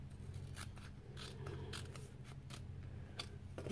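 Crisp snipping of scissors through paper, several quick cuts in an uneven rhythm, close up over a low steady hum.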